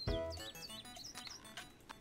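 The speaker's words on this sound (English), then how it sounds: "Like, I hear chirping." Birds chirping in the Pupperazzi video game, a quick series of high, bright tweets and short swooping calls over a low background, close and fairly soft, lasting about two seconds.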